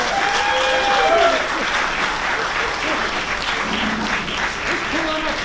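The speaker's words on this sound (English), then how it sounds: "A round of applause." Audience applause at a drumming event, a dense wash of clapping from a crowd with cheering voices mixed in, loud at first and continuing steadily.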